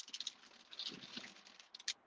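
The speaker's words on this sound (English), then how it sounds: "If I knew it was gonna rain this bad, I probably wouldn't grow." Light rain patters on a car during a drive, a faint, irregular scatter of soft taps with a few sharper drops standing out near the end.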